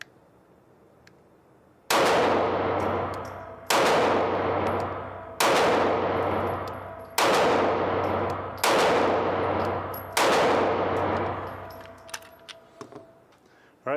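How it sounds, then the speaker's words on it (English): A Taurus G2C 9mm pistol fires six loud, evenly spaced shots at close range, each sharp crack trailing into a short ringing decay, with no talking. "this is our first 100 rounds through the Taurus G2C"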